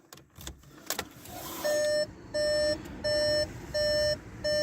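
A car's ignition is switched on, and after a few clicks and knocks a warning chime sounds in four evenly spaced bursts of rapid beeping inside the cabin, with no one talking.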